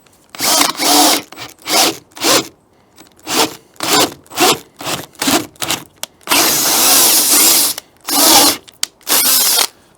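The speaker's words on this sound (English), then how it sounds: "I'm going to get to chiseling and drilling holes." A power drill boring holes through a door to fit a deadbolt, heard in loud, repeated short bursts with brief pauses, then two longer sustained runs near the end, close and alone.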